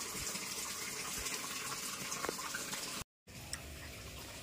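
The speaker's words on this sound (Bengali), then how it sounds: "জল পুরো ট্যাঙ্ক ভর্তি হয়ে গেছে জলে" Water gushes steadily into a fish tank holding stinging catfish (shingi), a broad continuous splashing rush that runs almost unbroken, with a brief dropout near the end, and no voices.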